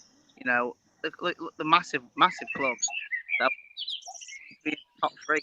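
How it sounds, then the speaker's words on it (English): Small bird chirps and short whistled song phrases sound faintly in the background while someone talks steadily over them. "Good bird singing there."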